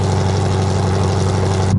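A 2017 Chevrolet Camaro ZL1's exhaust cruising gives a steady, subdued low drone with an even hum and no sharp revving, continuous throughout.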